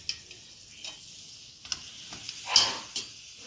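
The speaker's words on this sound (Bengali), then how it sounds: "এগুলো আস্তে আস্তে এরকম সব ভেজে নেব।" Malpua batter fries in hot oil with a faint, low sizzle, broken by light scattered ticks and one brief louder spatter near the end; otherwise quiet.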